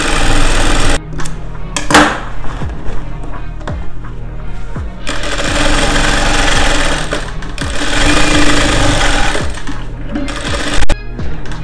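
A sewing machine runs steadily, stitching straight lines on a suit, its motor humming loud and continuous for most of the stretch with a few brief pauses between runs.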